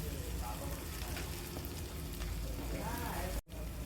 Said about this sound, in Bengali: মশলাটা ভাজা হওয়ার পর তেলটা উপরে উঠে গেছে